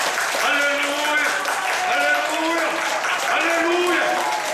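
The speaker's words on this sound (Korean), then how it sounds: "우리는 승리 주신 주님께 박수로 영광을 드립니다" A church congregation at a fasting prayer retreat bursts into sustained, dense applause that fills the whole stretch, with raised voices and tonal shouts ringing over the clapping.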